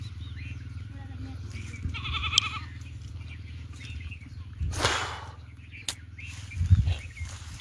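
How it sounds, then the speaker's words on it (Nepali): Goats being let out, with a few short bleats scattered over a low rumbling background and occasional sharp knocks. "बाख्रा निकालिँदैछ यतिखेर"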